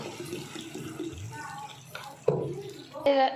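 Water pours into a pan of jackfruit curry masala with a brief splashing trickle, and a voice talks over it nearby.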